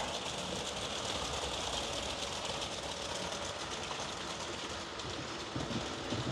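A steady, continuous rumble and whir of Roco model trains running automatically along the track toward a storage yard, fairly loud and unbroken throughout.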